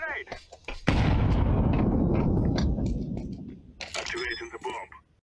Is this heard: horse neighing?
no